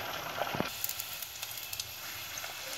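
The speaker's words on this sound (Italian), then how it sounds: "adesso immergiamo i nostri calzoncini e li andiamo a friggere" Calzoncini stuffed with cherry tomatoes, mozzarella and ricotta forte fry in hot sunflower oil, giving a continuous soft sizzling hiss scattered with small pops and crackles, fairly quiet and close.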